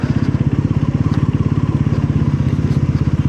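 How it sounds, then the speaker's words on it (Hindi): A Bajaj Pulsar NS motorcycle idles close by with a steady, fast engine pulse, its chain cover giving off a constant rattling clatter that rides on top of the beat throughout. "लेकिन ये इसका चैन कवर आवाज़ करने लग गया यार।"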